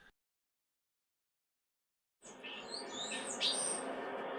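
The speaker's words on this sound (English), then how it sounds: "So this is a starling, also common in towns and cities" A common starling calls in a garden, a series of close chirps, whistles and rising squeaky notes over light background hiss, beginning after a brief silence.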